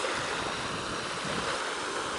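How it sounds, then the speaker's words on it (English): Big ocean waves wash ashore at an island, a steady rushing wash of surf that stays moderately loud and continuous, with some wind noise mixed in. "Where did all those waves come from? They're like kind of big."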